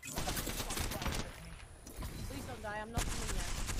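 Apex Legends gunfire, a busy stream of rapid shots and bursts that sound like game audio, partly under excited talk and overlapping voices.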